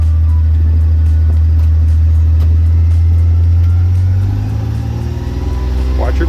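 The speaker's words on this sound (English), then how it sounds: "I press the accelerator down, and the motor RPMs goes up" Car engine idling low and steady, then rising in pitch and loudness as the accelerator is pressed and the revs climb, with a voice talking over the engine noise.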